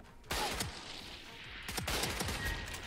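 Video game gunfire from Valorant cracks out in two quick bursts of rapid shots, sharp and close, with no talking during the shots.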